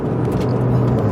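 Heard from inside the cabin, a steady, full engine and exhaust hum fills the brief span as a Porsche 992 GT3 drives along with constant road noise.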